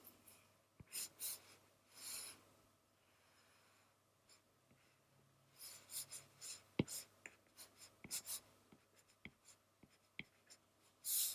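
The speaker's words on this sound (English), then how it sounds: "So in a way, I'm inking, but I'm inking with pencil." Pencil inking line work on paper for a cartoon face drawing, close and quiet scratchy strokes in short irregular bursts with brief pauses between lines, no talking.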